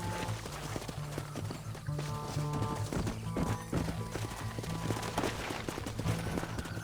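Several horses gallop in Red Dead Redemption, a steady clip-clop of hooves over a continuous bed of game music and ambience, with occasional snorts and a whinny among the pounding.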